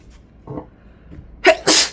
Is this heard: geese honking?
no